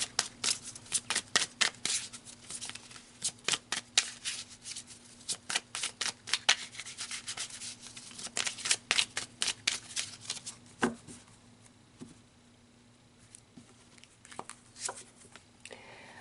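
Tarot cards are shuffled up close in quick repeated riffling bursts for about eleven seconds, then settle into a few softer, sparser shuffles and taps, with no talking.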